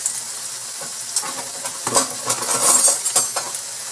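Salmon croquettes frying in oil in a pan, a bright continuous sizzle with spatula scrapes and metallic clinks as they are flipped, close and moderately loud, no voices.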